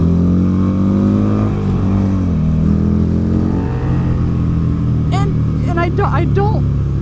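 A Buell motorcycle engine idles loud and close, then revs with rising pitch, while someone talks over it.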